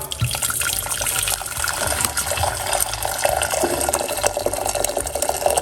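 Two cups of water are poured or run from a tap into a pot for Jamaican cornmeal porridge, a steady splashing stream heard up close and alone without talk.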